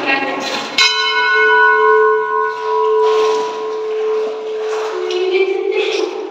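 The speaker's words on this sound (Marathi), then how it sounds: "एक मोठी घंटा देखील आपल्याला या ठिकाणी पाहायला मिळते" A large bell at Koteshwar temple, a cave shrine at Bhorgiri fort, is struck once and rings with a long, loud, sustained metallic hum that slowly decays, with faint voices and surrounding noise.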